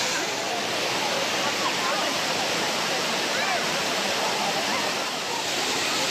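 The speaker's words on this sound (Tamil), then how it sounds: "நீர்வரத்து அதிகரித்து ஆர்ப்பரித்து கொட்டி வரும் அருவியில்" Kumbakkarai falls in full flow, a dense and steady roar of falling water that fills the whole stretch at a constant loudness, close and unbroken.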